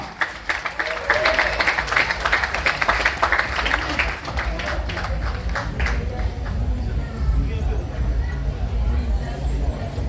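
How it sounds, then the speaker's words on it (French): Loud applause from a crowd at the Miss Guyane 2026 beauty pageant in French Guiana, dense clapping that swells then settles into a steady roar with some cheering and chatter beneath. "On applaudit très très fort."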